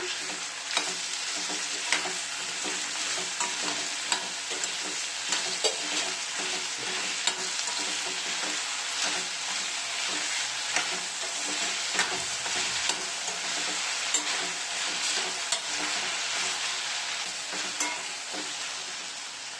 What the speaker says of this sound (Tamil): வெங்காயம் இந்த அளவுக்கு வதங்கினா போதும்